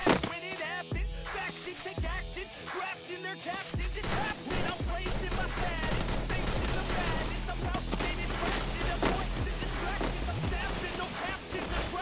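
Rapid bursts of gunfire from the battle-royale game Free Fire crackle through a dense, busy game soundscape, with repeated shots and a low rumble running throughout.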